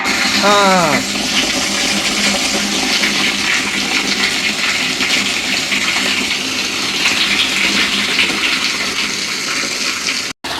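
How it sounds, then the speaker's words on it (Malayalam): Water gushes steadily into a freshly cleaned water tank, a loud continuous rushing pour that runs throughout, with a brief voice near the start. "ഇനി ഇതാ ടാങ്കിലേക്ക് വെള്ളം നിറയ്ക്കുന്ന അതിശുഭകരമായ ആ മുഹൂർത്തം എത്തിയിരിക്കുകയാണ്"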